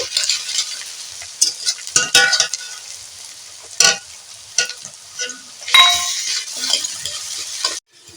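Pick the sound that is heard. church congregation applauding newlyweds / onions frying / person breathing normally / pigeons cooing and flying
onions frying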